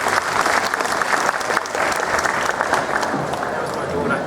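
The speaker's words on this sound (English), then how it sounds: "Let's give her a round of applause." Fan event audience gives a round of applause for a questioner, dense steady clapping from a crowd with murmured voices mixed in.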